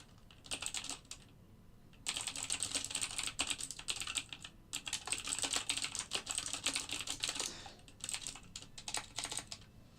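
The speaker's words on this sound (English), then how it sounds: "Look, I'm typing quieter for everyone now." Someone types on a computer keyboard at a trading desk, producing a steady close patter of light key clicks that runs in bursts with short pauses, with no talking over it.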